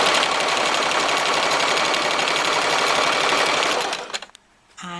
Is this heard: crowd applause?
no